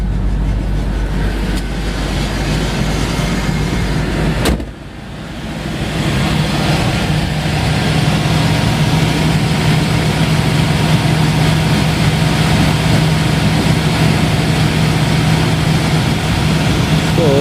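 A 1989 Ford Thunderbird with a newly changed fuel pump cranks and catches, then settles into a steady, loud, close idle with a faint tonal whine, and a voice is heard over the engine.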